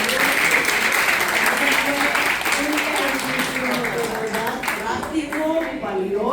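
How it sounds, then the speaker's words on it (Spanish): Loud, sustained audience applause fills a Panamanian event hall, dense and steady throughout, with voices and cheering mixed into the clapping. "Aplauso muy fuerte para"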